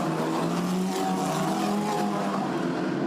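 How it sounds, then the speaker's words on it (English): A field of Formula Renault race cars pulls away at the start of a race at Silverstone, their engines blending into one loud, steady roar that holds throughout, with tires squealing under it. "There's the green flag, so everybody now is released. The cars sprint off down towards Copse Corner."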